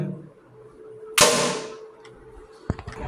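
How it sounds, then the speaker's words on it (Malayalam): A single sharp gunshot cracks out, followed by a brief fading tail and a few small clicks and knocks afterward. "അപ്പോൾ ഗായ്സ് ഞാൻ വെടിവെക്കാൻ പോണ്"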